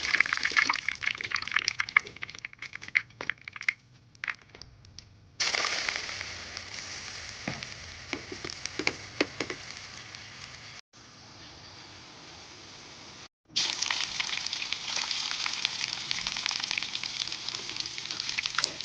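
Eggplant pieces fry in hot oil, giving a continuous crackling sizzle, close and steady, with a couple of short quiet breaks and no voices.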